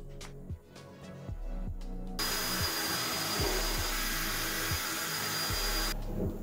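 A drill bores a pilot hole for a wooden French cleat frame. A few light knocks come first, then the drill whirs loudly and steadily for about four seconds before stopping.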